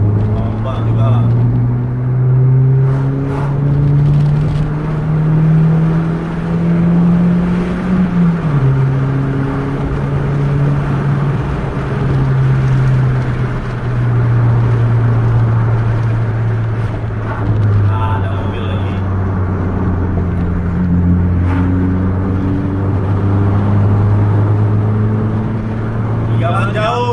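A night bus engine revs hard and accelerates at high speed on a road, a loud steady low drone rising and falling in pitch throughout, with people talking over it.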